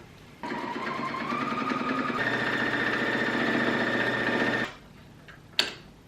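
A sewing machine runs fast and steady while stitching the final row of a beginner quilt, a close, loud mechanical whir lasting about four seconds before stopping, followed by a sharp click.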